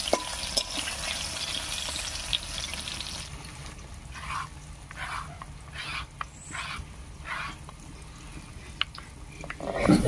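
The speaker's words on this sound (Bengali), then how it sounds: "কারকলগুলো ভাজা হতে থাক" Kakrol (spiny gourd) fries in oil in a pan, a steady soft sizzle running throughout with brief crackles and stirring bursts near the end, close and alone.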